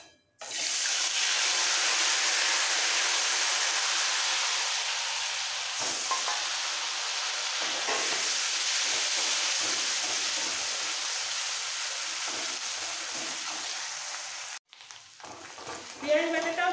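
Onion paste frying in oil in a pan with cumin tempering: a loud, continuous close-up sizzle that softens slightly over time, then cuts off abruptly near the end as a brief quieter stir follows.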